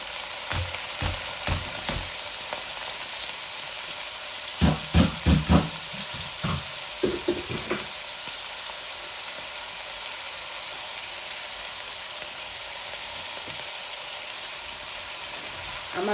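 Winter vegetables frying in a hot pan make a steady sizzle, with a cluster of clattering stirs and knocks near the start before the hiss settles into an even, continuous fry.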